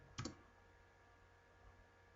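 A single sharp mouse click on the green flag in a Scratch ping-pong game project, brief and close, followed by quiet room tone.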